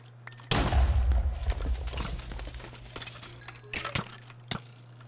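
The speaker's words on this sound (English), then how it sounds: "Would you stop shooting me, please?" Gunfire in a Crysis-like first-person shooter: a loud burst of shots opens with a heavy boom, then scattered sharp single reports and thuds follow at irregular intervals over steady background ambience.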